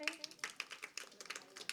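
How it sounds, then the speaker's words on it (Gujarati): An audience at a Jain nun's religious discourse claps for themselves, a fairly quiet, brief burst of uneven hand claps from a small gathering. "તાળી પાડો બધા પોતા માટે."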